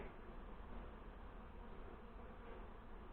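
Honey bees swarming an open feeding spot outside their hives, a dense continuous buzzing drone that stays even and fairly close throughout, with no voices.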